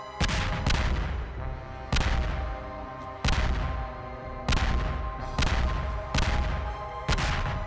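Wither skulls explode repeatedly in the Minecraft video game, a series of about eight loud, booming blasts arriving every second or so, each with a sharp onset and a rumbling decay, with no talking over them.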